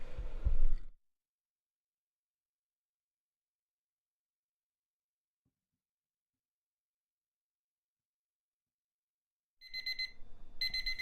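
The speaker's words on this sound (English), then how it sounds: "I'm trying to find the alarm that's going on." An alarm goes off in two bursts of repeated electronic beeping, one brief at the start and another near the end, separated by long silence.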